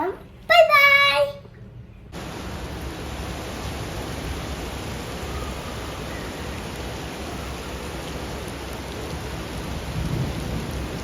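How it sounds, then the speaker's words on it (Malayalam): Heavy rain during a thunderstorm in Dubai, a dense, steady roar of downpour lasting several seconds after a brief voice at the start, with low thunder rumbling beneath. "ഇവിടെ നല്ല മഴയുണ്ടായിരുന്നു കേട്ടോ."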